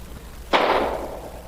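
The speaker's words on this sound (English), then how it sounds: "We're going to shoot a bullet out of the gun we took from Samuel Payton into that cotton bale." A single gunshot fired into a cotton bale as a radio drama effect, one sharp close crack followed by a short fading wash, alone against a quiet background.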